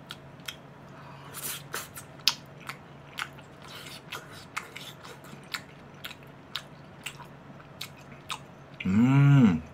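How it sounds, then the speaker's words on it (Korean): Fish cake (eomuk) is chewed up close during a mukbang meal with chicken, giving a run of soft, moist bites and chews in an irregular rhythm, ending with a brief voiced, squealing sound. "어묵 하나 먹어볼게"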